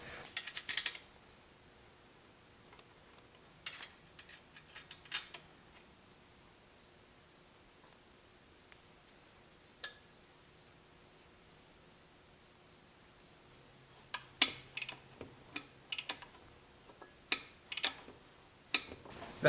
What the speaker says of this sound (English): then I'll tighten up this bracket on the front